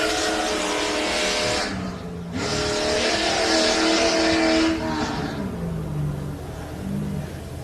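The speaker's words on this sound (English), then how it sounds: "So Gadaletta completes lap number 1, still has 2 laps left to go here at the Loveday 400" A race car at the Loveday 400 roars by on the track at close range, its engine note rising then sliding downward as it passes and fades.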